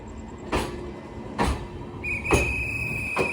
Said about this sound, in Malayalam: ഇതാ ട്രെയിൻ പ്ലാറ്റ്ഫോം നമ്പർ 1 റിവേഴ്സ് ചെയ്ത് വരികയാണ്.